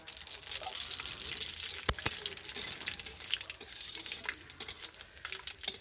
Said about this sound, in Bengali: চারটে তেজপাতা আর দিয়ে দিচ্ছি চারটে শুকনো লঙ্কা ফোড়নে দিয়ে দেবো কটা গোটা জিরে